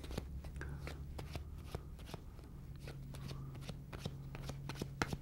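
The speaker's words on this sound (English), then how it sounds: "As they're shuffling, they're actually taking the cards" Playing cards being shuffled, with rapid repeated riffling clicks and soft flicks, close and fairly quiet over a faint background hum.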